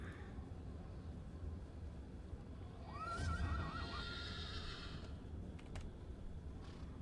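A mounted horse in Dungeons & Dragons Online lets out one short, wavering whinny against a quiet, steady game background, with a few faint clicks after it.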